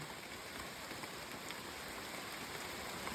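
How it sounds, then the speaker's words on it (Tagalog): Steady heavy rain hisses down on a surface in the countryside on a farm, dense and continuous, with no talking. "Ulan! Silong muna kayo! Silong!"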